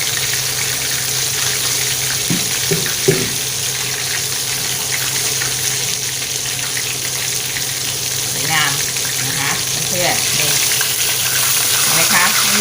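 Fermented sour fish frying in a pan, a steady loud sizzle with bubbling oil throughout, a few brief clinks and stirring sounds, and a faint voice in the background.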